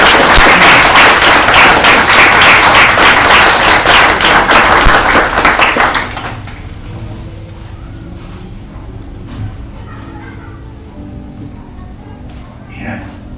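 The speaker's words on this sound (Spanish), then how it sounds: "Dale palmas a Dios." A church congregation claps its hands for God in a dense burst of applause lasting about six seconds, then it fades to scattered taps and murmuring voices.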